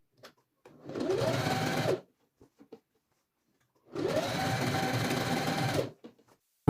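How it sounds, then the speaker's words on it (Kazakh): Sewing machine stitching along a fabric edge while making a table runner and napkin, two close bursts of rapid steady whirring of about a second and two seconds each, separated by quiet. "Екінші жақ шетінде қазір тура солай тігіп шығамын."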